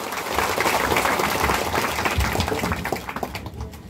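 Applause rises from a gathering at a ceremony in a Balinese village, a dense wash of clapping that holds steady and then thins toward the end.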